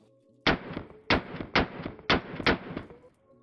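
Several loud rifle shots from a Daniel Defense DDM4 V7 with a mid-length gas system and muzzle brake, fired outdoors in an uneven string of about six sharp reports, each with a short ringing tail.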